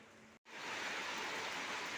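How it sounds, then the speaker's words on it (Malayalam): Steady, dense hiss of heavy rain pouring down nearby, broken by a brief silent cut early on, then continuing evenly and fairly loud with no talking. "നല്ല മഴ തുടങ്ങി കേട്ടാ"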